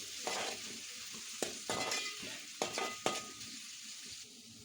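Bay leaves and whole spices sizzle in hot oil in a pan for prawn biryani, a steady close hiss punctuated by several sharp clinks and scrapes of a spoon against the metal, with nobody speaking.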